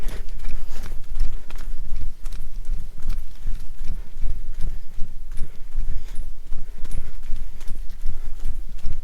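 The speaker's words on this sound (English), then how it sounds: "All those metal sounds are my camera equipment bouncing around in this bag." Camera equipment bounces around inside a carried bag during a wilderness camping trip, making a loud, steady, rhythmic metallic rattle and clatter that keeps pace with running footsteps throughout.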